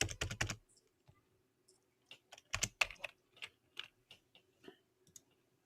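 Quick bursts of keyboard typing, a flurry of keystrokes at the start, then scattered clicks and short runs of key taps, close and fairly quiet.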